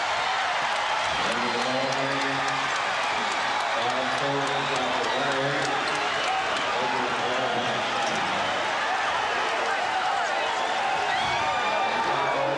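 Large arena crowd at an NBA Finals game roars, cheers and applauds steadily after the Chicago Bulls clinch their first championship, a dense continuous wash of noise with a commentator's voice talking over it.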